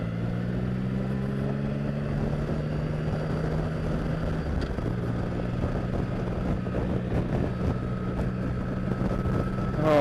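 A 2016 Triumph Rocket III Roadster motorcycle rides along with a steady low engine drone and constant wind rush, loud and close, continuing without a break.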